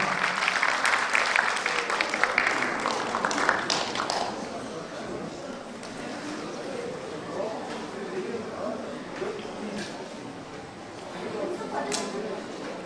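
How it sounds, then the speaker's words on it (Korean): An audience at an award ceremony for a national friendliness contest claps for several seconds, a crisp burst of many hands that fades into a room murmur, with someone speaking and occasional scattered claps later on. "축하의 박수 부탁드립니다"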